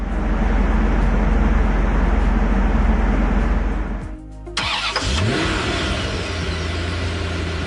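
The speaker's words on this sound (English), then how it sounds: "Here's a healthy engine idle compared to one with a failing crankshaft sensor." A car engine idles steadily at close range, first a healthy idle and then one with a failing crankshaft position sensor. After a brief dip and restart, the second idle runs rougher and more uneven. No one speaks.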